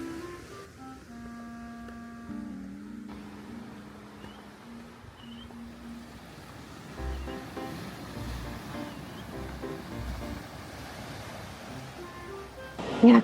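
Sea waves washing onto a fog-covered shore in Hokkaido, a soft steady surf with wind rumble and a gust of mic wind near the end, no voices.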